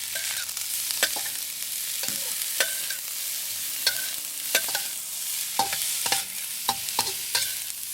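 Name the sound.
stir-frying crab meat with pepper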